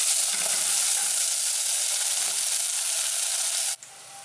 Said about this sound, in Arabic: بعد ما تقلت لنا البصله نزيدو الثوم تاعنا